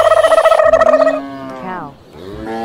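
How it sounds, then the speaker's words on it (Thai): A toy cow gives a loud, close electronic moo lasting about two seconds, its pitch sliding downward, followed by a softer trailing tone. "cow"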